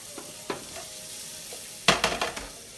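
Chopped onion added to a pan of sizzling chopped bacon gives a soft, steady frying hiss, then a sudden cluster of louder scraping and clattering stir sounds near the end.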